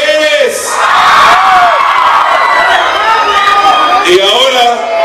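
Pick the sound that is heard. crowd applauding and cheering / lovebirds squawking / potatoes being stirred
crowd applauding and cheering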